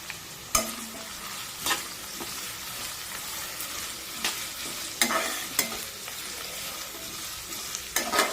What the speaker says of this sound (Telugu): ఆనియన్స్ కొంచెం ఇట్లా బ్రౌన్ కలర్ వచ్చేంతసేపు మంచిగా వేయించుకోవాలి